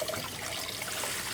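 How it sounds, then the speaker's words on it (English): Close splashing and dribbling water as a pet bird is bathed, a continuous wet patter at moderate loudness with no talk. "Hit you in the face with some water."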